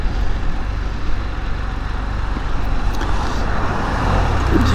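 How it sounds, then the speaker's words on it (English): Steady road traffic on a busy road heard from a three-wheeled motorcycle ride, with vehicles rumbling past continuously and loudly, no voices. "traffic never stops"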